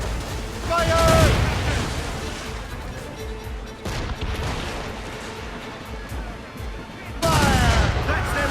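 Naval cannons fire broadsides in Assassin's Creed Rogue: loud, rumbling booms and crashes come in bursts near the start and end, with voices shouting over the battle noise.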